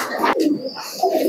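Domestic Giribaz pigeons at a seller's loft coo in a short close sequence of soft low calls, with two brief bursts in the middle and end.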